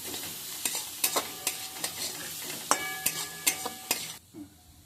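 Tomato cooking with turmeric, cumin, ginger paste and garlic paste in a pan, a soft sizzle under repeated sharp scrapes and taps of a spoon stirring against the metal, then a quieter tail.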